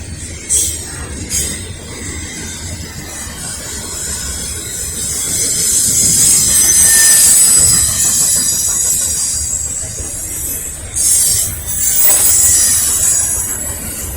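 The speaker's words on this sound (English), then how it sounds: "This train's headed toward Crewe, Virginia, I think." An eastbound Norfolk Southern freight train rolls past nearby at a rail yard in Virginia with a steady rumble, rail hiss and high wheel squeals that swell in the middle and flare again near the end.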